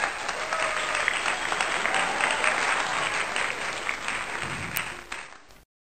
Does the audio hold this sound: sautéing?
no